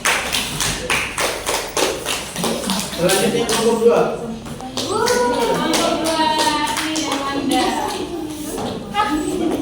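Classmates clap during a microteaching practice class, a quick burst of overlapping hand claps with thuds at the start, followed by people talking over the room.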